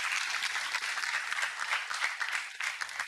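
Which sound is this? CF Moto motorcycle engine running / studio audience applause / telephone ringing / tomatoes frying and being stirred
studio audience applause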